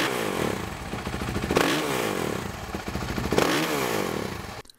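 A motorcycle fitted with a Rekluse Core EXP 3.0 auto-clutch, idling warm in neutral while the throttle is blipped to about 5,000 RPM twice: close, loud engine drone rising in two quick revs before cutting off at the end.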